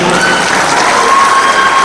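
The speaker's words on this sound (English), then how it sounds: "Let's clap for him." A conference audience of physical scientists in Nigeria applauds a professor, a dense, steady wash of clapping that fills the room loudly and evenly from start to finish, with no voices standing out.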